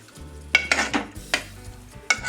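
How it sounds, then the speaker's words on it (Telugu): Mutton keema mixed with ground masala powder is stirred in a pan: a series of loud scraping strokes of a spoon against metal, spaced irregularly, over a low sizzle, with no talking. "ఇదంతా బాగా ఇలా కలుపుకోవాలి."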